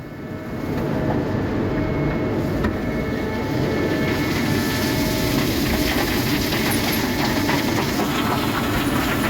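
A giant grinding mill runs at the Sangan steel plant, a loud, dense, continuous industrial roar and rumble with hissing and rattling texture throughout, with no voices.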